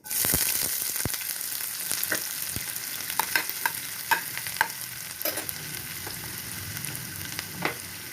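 Onions fry in hot oil in a pan for a coconut prawn malai curry, with a steady sizzle and scattered sharp spatula scrapes and clicks as they are stirred, close and continuous with no talking.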